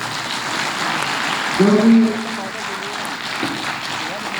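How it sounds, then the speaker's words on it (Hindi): An audience claps after a theatre play at a drama festival, with steady, dense applause filling the hall while a voice speaks over it. "अगर आप लोगों को ये नाटक पसंद आया तो एक जोरदार तालियां"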